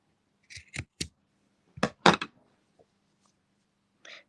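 Scissors snip macrame cord while trimming a small Christmas tree ornament, several quick crisp cuts in two bursts with a last faint snip, close and quiet with no talking.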